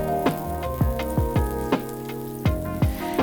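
Butter rubbed around a hot frying pan before pancake batter goes in, giving a soft continuous sizzle punctuated by several sharp scraping or tapping hits at irregular intervals, close and clear with no talk.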